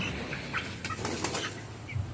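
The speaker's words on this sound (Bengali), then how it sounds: "এখানে পনেরোশো মুরগি পালন করা হচ্ছে" Indoor poultry shed ambience with about 1,500 chickens: a mass of clucking and rustling, with occasional wing flaps over a steady ventilation hum.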